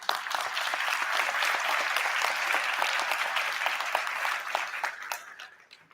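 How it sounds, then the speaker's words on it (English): Audience applause for conference presenters, a steady dense clapping from a sizable crowd that holds for most of the span and then tapers off at the end. "I'd like to take a moment just to applaud all the people that presented today"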